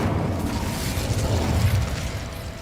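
A fire spell cast in Hogwarts Legacy, a steady roaring, crackling burst of flame with deep rumbling underneath, loud and continuous for a few seconds with no voices.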